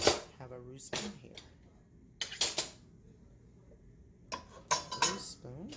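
A roux spoon clinks and scrapes against a skillet as margarine or butter melts, with sharp metallic strikes in short bursts separated by quieter gaps and a voice speaking in between.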